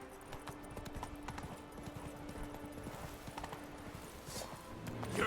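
Horse hooves clip-clop steadily in The Witcher 3 video game, a continuous rhythmic trot under ambient game sound, with a brief horse whinny suggested near the end.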